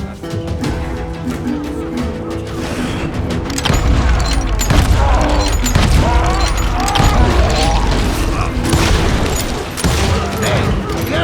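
Gunfire in the Western shooter Call of Juarez: Gunslinger, with dense, continuous shooting and crashing impacts building from a lighter opening into a loud, sustained barrage, mixed with game sound and voices.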